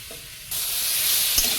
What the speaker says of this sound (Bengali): পেঁয়াজ দেওয়ার পরে কিছুটা ভেজে নিয়েছি এবারে দেবো আদা আর রসুন